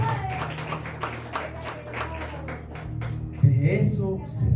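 A church congregation claps for the Lord during a sermon, a soft, rapid patter of many hands under a low hum, with a louder swell of crowd noise near the end.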